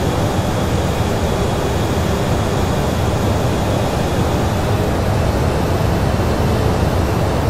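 Douglas DC-8 jet engines in a flight simulator accelerating after takeoff from SXM, a steady, loud broadband roar with constant low rumble and no variation in level.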